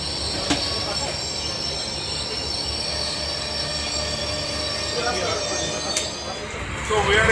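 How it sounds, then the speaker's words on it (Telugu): A train on the Banihal to Baramulla line in Kashmir rumbles steadily along the rails with high wheel squeal and occasional clicks, heard from onboard with people talking. "The train is going from Banihal to Baramulla."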